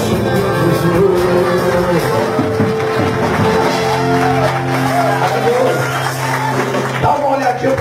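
Church congregation at an evangelical service applauding and shouting: a dense, loud wash of crowd clapping and voices cheering continuously, with some talking mixed in.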